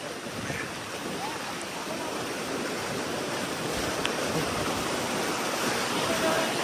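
Floodwater rushes past roadside embankments in a flooded residential area, a steady, loud, broadband roar of moving water with wind buffeting the microphone throughout.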